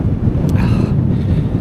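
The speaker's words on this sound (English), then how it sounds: "God, it is really windy." Strong wind buffets the microphone while riding a gravel bike on the Spa Trail in the Lincolnshire Wolds, a loud, continuous roar with no talk.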